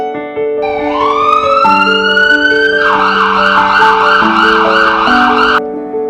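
Ambulance siren from an emergency vehicle in Abujhmarh, Bastar, loud and continuous, rising into a sustained wail over steady horn-like tones for several seconds.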